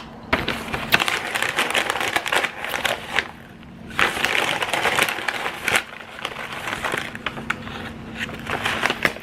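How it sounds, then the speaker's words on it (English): A spoon folds a third of a cup of granola into yogurt in a bowl, making close, crunchy scraping and crushing bursts in two main stretches with short pauses between them, and no talking. "get my 1/3 cup of granola mixed in"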